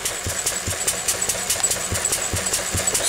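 A Lister D single-cylinder diesel engine runs alone at a steady speed, its close, even thudding beats repeating in a regular rhythm with a metallic clatter on each stroke.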